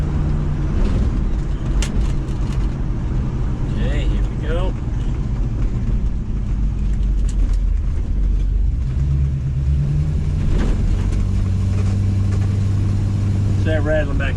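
Steady low engine drone from a 1969 Chevy C10 pickup truck while driving, heard from inside the cab, with road rumble, slight pitch shifts as it accelerates, and a few faint rattles.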